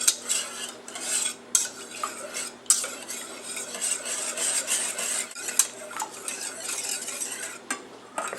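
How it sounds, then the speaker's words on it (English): Buttermilk, eggs, vanilla and almond extract whisked together in a bowl, giving a quick, continuous scraping and clinking of the whisk against the sides, close and moderately quiet, with no one talking. "So we're whisking together our buttermilk, our eggs, our vanilla extract, and our almond extract."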